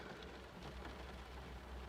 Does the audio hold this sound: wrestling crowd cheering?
no